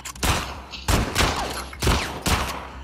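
Four loud, sharp gunshots in The Last of Us Part II, fired at uneven intervals, each with a short booming decay and no speech over them.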